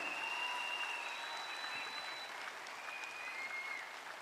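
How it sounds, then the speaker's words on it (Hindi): Loud, steady applause from an audience at a DXN business gathering, honouring a crown ambassador, sustained evenly for several seconds with no talk over it. "एक बार जोरदार तालियां"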